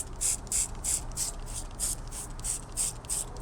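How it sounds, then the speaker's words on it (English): A hand trigger sprayer pumps citrus wheel gel into a bucket, about nine quick bursts in a steady rhythm, each a crisp hissing spray with a faint mechanical click from the trigger. "So I'll just give it a couple sprays into my bucket, just so I can have some lubrication in here."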